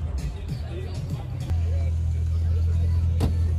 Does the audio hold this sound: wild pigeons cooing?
no